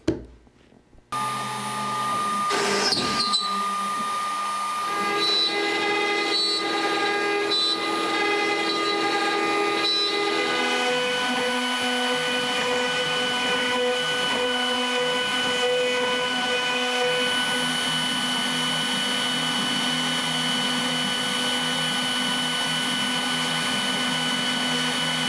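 A vacuum pump for woodworking vacuum clamping, starting with a short burst and then settling into a steady, continuous droning hum with a whine, running alone and unchanging for over twenty seconds.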